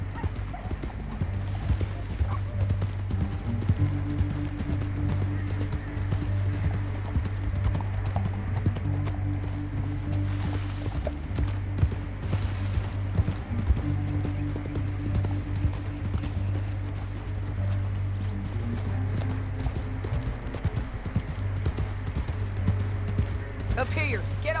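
Horses clip-clop in a steady galloping rhythm through a canyon in Red Dead Redemption 2, with an occasional whinny, running continuously under game music and spoken dialogue.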